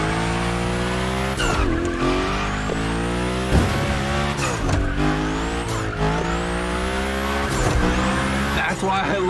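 A car drifting in The Crew Motorfest, engine revving hard with rising and falling pitch through gear changes while tires squeal continuously through the slides, loud and close, with voices talking over it.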